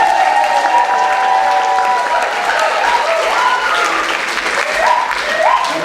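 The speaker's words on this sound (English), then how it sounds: "big round of applause for Liam Del Hopper" Theatre audience at a community stage production applauding the contestants, a loud, dense, continuous wash of clapping with some crowd noise and a few faint voices underneath.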